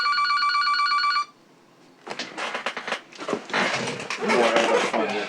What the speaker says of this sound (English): No, I don't answer the phone